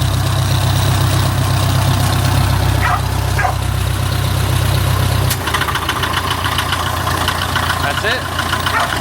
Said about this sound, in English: it'll start on the diesel side of the motor